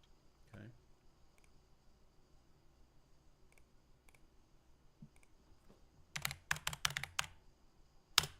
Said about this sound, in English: My keyboard is louder than my voice?